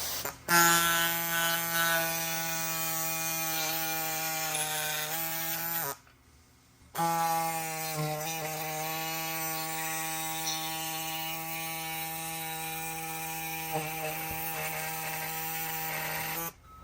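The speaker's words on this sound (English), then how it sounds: "I prefer to use a body saw on this" Reciprocating body saw cutting a hard plastic truck bumper, giving a steady, buzzing mechanical drone with strong harmonics that pauses for about a second mid-clip, then resumes and runs on without speech.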